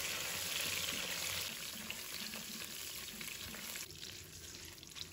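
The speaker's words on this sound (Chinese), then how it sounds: "把洗净的香料倒入锅中，开小火慢慢炸" Whole spices fry slowly in cooking oil over low heat in a wok while being stirred continuously, giving a steady, close sizzle that eases slightly toward the end, with no voices.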